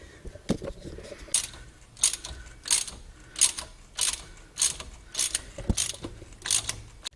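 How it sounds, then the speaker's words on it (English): A ratchet tightening the crankshaft pulley bolt on a D-series Honda Civic turbo during a racing pulley install: about ten crisp clicking bursts in a steady rhythm, close and fairly loud, with brief pauses between strokes. "Then I'm going to put the bolt on there, tighten it up."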